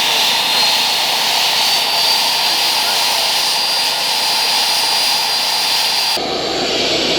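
Turbocharged engine in a turbo barrel setup, building boost with nitrous: a loud, sustained roaring whoosh that stays intense and then cuts off abruptly near the end.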